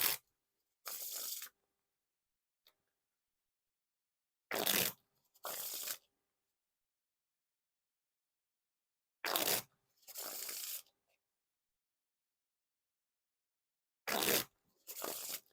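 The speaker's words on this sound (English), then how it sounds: "now time for the riffle shuffle or bridge shuffle" Three rounds of crisp riffle shuffles of a Standards Flag Edition playing card deck by Art of Play, each a brief riffle burst followed by a softer bridge cascade, close and loud against silence.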